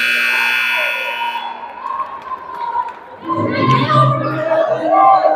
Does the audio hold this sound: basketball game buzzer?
yes